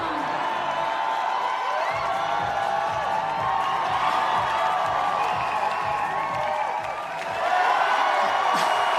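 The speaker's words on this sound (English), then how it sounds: "I get the feeling the local crowd quite liked that one. Yeah, definitely. Crowd absolutely lit up." A local crowd at a climbing competition final roars and cheers steadily, with rhythmic clapping pulsing underneath and a swell of whoops near the end; voices talk over the din.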